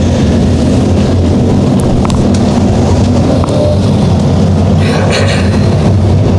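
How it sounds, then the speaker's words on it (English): Modified race car engines roaring around the track at Evans Mills Motorsports Park, a dense, continuous rumble with engines swelling and passing. "Can feel the engines as they were down here on the front chute."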